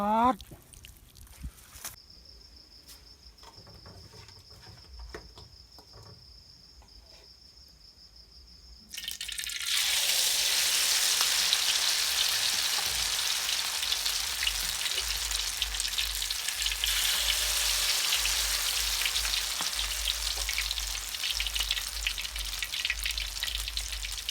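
Shrimp frying in hot oil: a quiet stretch with a faint steady tone gives way to a loud, continuous close-up sizzle and crackle that lasts to the end.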